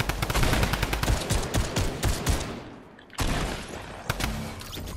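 Drum gun fire in a shooter video game: rapid, dense bursts of gunshots in quick succession, a short pause, then more sustained automatic firing, loud and close.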